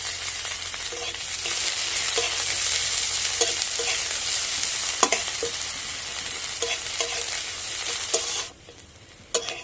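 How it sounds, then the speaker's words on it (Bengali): Chopped onion frying in hot oil with panch phoron for chikni shak, a steady loud sizzle close up with repeated spatula scrapes, then the hiss suddenly drops away near the end; no voices. "দেখুন বন্ধুরা পেঁয়াজটাকে আমি এইভাবে একটু লাল লাল করে ভেজে নিয়েছি"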